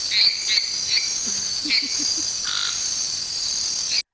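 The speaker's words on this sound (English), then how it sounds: "there's some jungle frogs" Jungle frog sound effect from the Scratch coding library: steady high insect-like trilling with repeated chirping calls and a few soft low croaks, loud and close, ending abruptly.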